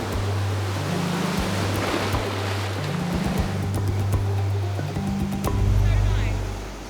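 Ocean waves washing onto a beach, a continuous broad hiss of surf that swells slightly toward the end, heard under background music.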